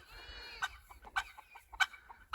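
Several chickens cluck in short, sharp bursts, close by, with a brief rising squawk near the start and no talking.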